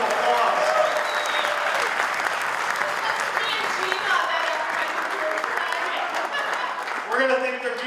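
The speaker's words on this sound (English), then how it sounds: "let's give them a huge round of applause" Sustained audience applause fills a community gathering of Albanian Americans in Michigan supporting a congressional candidate, steady and dense clapping from many hands throughout, slightly swelling near the end.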